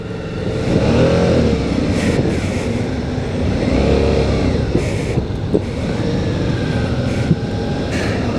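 A 2016 Suzuki V-Strom DL 650 motorcycle pulls away, its engine revving and climbing through gears with a steady loud drone, close up, with wind rush and a few shifts along the way.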